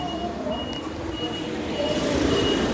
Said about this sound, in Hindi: कूड़े वाली गाड़ी थी, देख रहे हो।